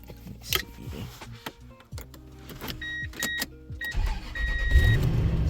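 A pickup truck on an off-grid homestead is started after scattered clicks, chimes and whirs, then its engine catches with a low rumble that settles into a steady idle.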